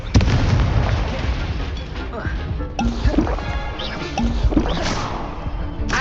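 Confringo spell blasts in Hogwarts Legacy burst loudly one after another amid dense combat noise, with a caster shouting spell incantations over the booms.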